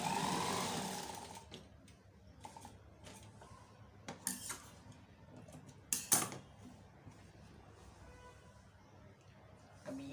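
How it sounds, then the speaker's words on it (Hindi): A sewing machine stitches a neck trim strip, with the edge finished close to the border. The whirring is faint and intermittent, with a few sharper mechanical clicks, all at a low level. "इसमें अब ये इसकी एक सिलाई हम यहाँ भी लगा लेंगे।"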